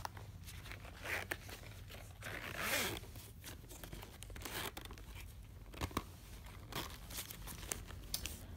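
A zipper slides along a fabric pen case that holds a pin collection, close and quiet, with drawn-out zips, rustling and crinkling handling noises, and no talking.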